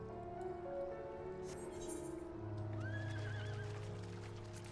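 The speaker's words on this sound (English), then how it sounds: "I should have just gotten on my horse." A horse whinnies with a rising, wavering call over a steady low hum and ambient game sounds in Final Fantasy XIV: Stormblood.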